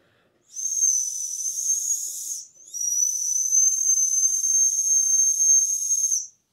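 A 3D printed dog whistle blows two sustained, very high, thin tones with breathy hiss, the first about two seconds, the second longer, after a brief pause.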